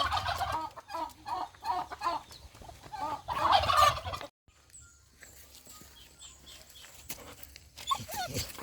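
Chickens clucking outdoors at a farm in the early morning, with bursts of fowl calls and a dog close by during the first half, followed by a quieter stretch of faint calls and breeze.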